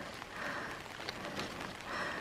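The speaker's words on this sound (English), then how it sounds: "Back in the rain setup, it's raining." Soft, steady rain patters on surfaces along the Bibbulmun Track, a faint continuous hiss with scattered drops and no voices.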